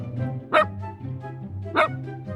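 A toy dog from a Fireman Sam firefighter playset gives two short, sharp electronic barks about a second apart, clear and close against a low background hum.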